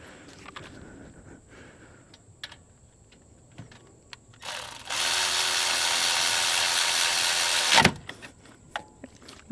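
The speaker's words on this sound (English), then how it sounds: "I'm going to go ahead and snug these up with the electric ratchet" An electric ratchet snugs bolts on a broken GM Ecotec 1.4L turbo drive belt tensioner, one loud continuous whir of about three seconds, close by, after quiet shop clatter and ending abruptly.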